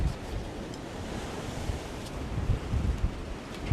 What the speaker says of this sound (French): Le vent souffle terriblement, hein.